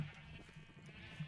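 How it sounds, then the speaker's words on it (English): Minecraft sheep bleat quietly in a steady wavering drone that holds for about a second, faint and alone with no talk. "Oh, a pink sheep. Oh, it's a blue sheep."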